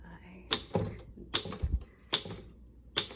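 An old Underwood No 5 manual typewriter clacks as its keys are struck one by one, about eight sharp, close metallic hits in an uneven rhythm with a soft thud between.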